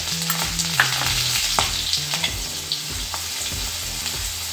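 Green chilies and a pinch of turmeric frying in hot oil for a Marathi-style gawar (cluster bean) bhaji, giving a steady crackling sizzle with stirring clicks throughout and low music in the background.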